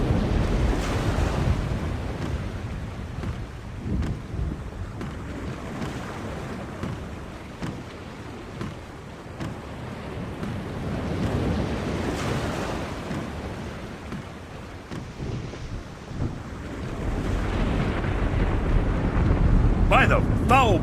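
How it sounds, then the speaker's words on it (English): A storm at sea in The Longest Journey, with steady wind and surging waves rolling around a ship, loud and continuous, swelling near the end. "The storm is closing in."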